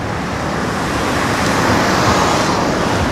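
A car passing through busy traffic around the Takoradi Market Circle; a steady, loud wash of engine and road noise that swells slightly midway, with no talk over it.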